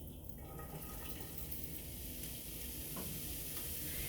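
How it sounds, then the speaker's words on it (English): Ground beef for goulash sizzles in a skillet with a steady, close frying hiss and occasional stirring scrapes. No voices are heard. "I'm going to add my hamburger back to the skillet"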